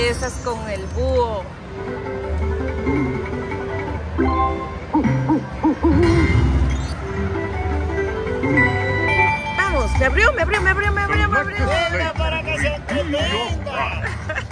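A casino slot machine at the Paris Las Vegas plays its owl hoot sound effect, a loud repeated electronic hooting amid machine jingles and crowd babble, with people talking over it on the gaming floor.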